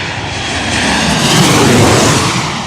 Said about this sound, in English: Oh, that Boeing aircraft sounds so good.